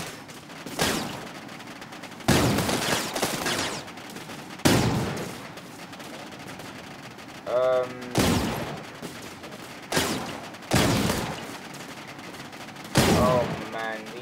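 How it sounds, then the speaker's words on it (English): Double rail guns in the video game TerraTech fire in loud, sharp bursts of several rounds, with short gaps between them. A voice speaks briefly between some of the volleys. "these double rail guns are something else"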